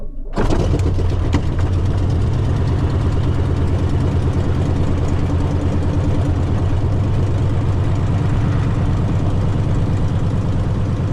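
A small four-seat propeller plane's engine catches after a brief silence and then settles into a loud, steady, rumbling idle close by for the rest of the stretch, with no talk over it.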